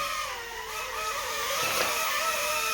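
Eachine E016F toy hovercraft with its small motor running, a loud continuous high-pitched whine with wavering pitch that stays steady and close throughout.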